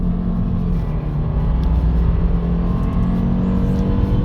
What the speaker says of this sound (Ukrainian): Зараз ми зрушимо від нуля до сотні.